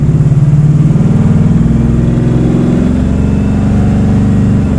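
An LS V8 swapped into a 2006 Monte Carlo converted from front- to rear-wheel drive revs hard and accelerates. It is loud and close, with a throbbing, pulsing engine note that climbs steadily.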